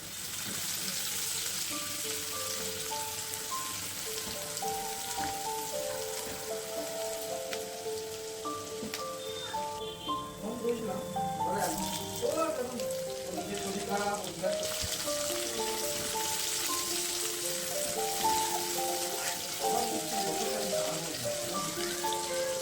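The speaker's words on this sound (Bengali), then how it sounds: "একটা আমি শুকনো লঙ্কা তেলে দিচ্ছি।" Dried red chili dropped into hot oil in a home kitchen sizzles in a steady, crackling hiss that runs throughout, with a faint tonal background beneath.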